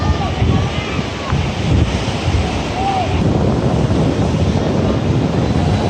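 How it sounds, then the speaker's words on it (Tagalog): Loud, strong ocean surf crashes and roars continuously at a beach in Nasugbu, Batangas, with heavy wind buffeting the microphone. "Lalakas ng alon."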